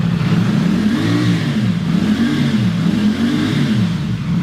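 A 2025 CF Moto 450 SR-S motorcycle engine held at about 4,000 RPM, a loud close steady growl rising and falling in gentle swells with no voices.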